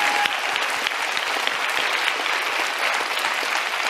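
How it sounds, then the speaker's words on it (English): Steady applause from a town hall audience, dense and even, continuing throughout without a break. "he deserves a round of applause."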